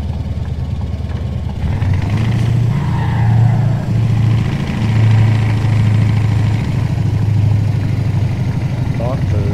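A simulated truck engine from Euro Truck Simulator 2 drones steadily at a low pitch, swelling slightly as it pulls, while someone talks over it.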